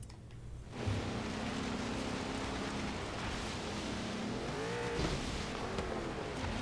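Engines roar in an off-road car race in Forza Horizon 3, a loud, steady motor drone with a rising pass partway through and rough broadband noise, no voices.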